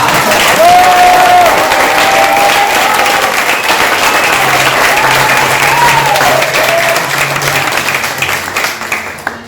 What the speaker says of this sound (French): applaudissez-la, Rebecca